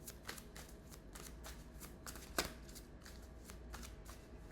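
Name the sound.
tarot cards being shuffled and drawn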